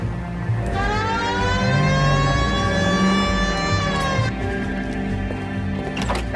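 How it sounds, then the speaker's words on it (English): A police siren in the video game L.A. Noire wails, rising and falling in long sweeping tones, loud and continuous, with a rumbling engine underneath and no talking. "Hit the siren."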